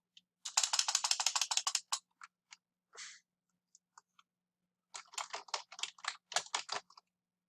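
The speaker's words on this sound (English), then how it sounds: "You might type in Trisha Gatewood" Names being typed on a computer keyboard while setting up Google Drive, a fast run of light, close key clicks, then a few scattered taps and a pause before another quick burst of typing, with no talking.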